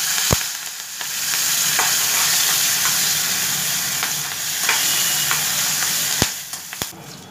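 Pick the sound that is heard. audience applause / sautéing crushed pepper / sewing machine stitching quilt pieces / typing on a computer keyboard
sautéing crushed pepper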